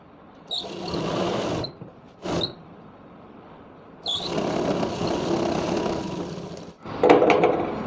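A sewing machine stitches Rajputi lehenga fabric in two sustained bursts of rapid mechanical whirring, with a short burst between them and a brief start at the end, all close and loud.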